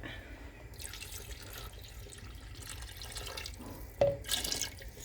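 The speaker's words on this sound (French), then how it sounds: "quand vous versez sur le côté, pas sur la viande" Liquid poured into a tajine beside the meat for a prune and almond tajine, a faint trickle building to a short, louder splash near the end, close and quiet overall.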